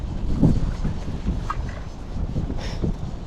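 Strong wind by a river buffets the microphone in heavy, uneven gusts, with a louder rush near the start and rumbling low noise throughout.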